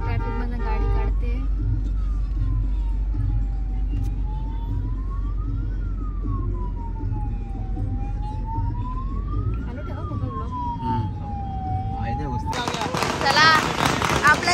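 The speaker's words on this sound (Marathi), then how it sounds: "चला आपल्या एंट्रीवर फटाके लावले" Firecrackers set off at the entrance of a garden hotel's opening: a wailing siren-like tone and a low traffic rumble play first, then a dense, loud burst of crackling bangs erupts near the end.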